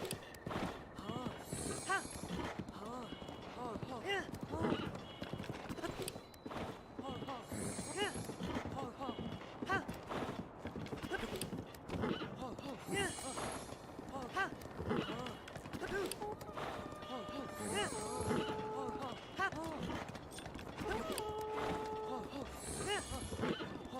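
A horse in The Legend of Zelda: Breath of the Wild gallops with rhythmic hoofbeats and occasional whinnies, heard under ongoing talk with game music tones.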